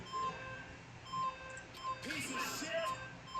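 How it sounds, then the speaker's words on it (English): Short electronic beeps sound at intervals, thin and tonal, mixed with game-like chirps and a burst of noisy activity in the middle, from the video game Danganronpa. "Stop that goddamn beeping and say something!"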